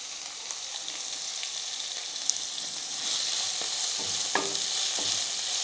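Onions sauté with a pinch of salt in a pan for oats kichadi, giving a steady close sizzle that grows louder partway through, with a few scraping stirs and no talking.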